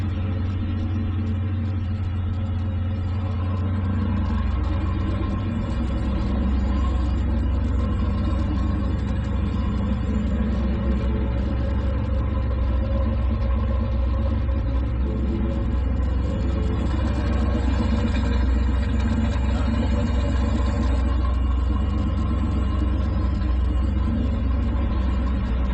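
Car engine running with the exhaust cutout opened, a continuous low rumbling drone that holds steady and close for the whole stretch, with no talk.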